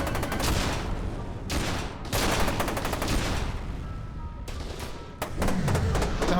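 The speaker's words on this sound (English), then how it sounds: "What the hell's shooting at me?" Enemy gunfire aimed at the player in the shooter F.E.A.R. 2: dense, loud bursts of rapid automatic fire that stop and restart several times, filling the whole stretch with crackling shots.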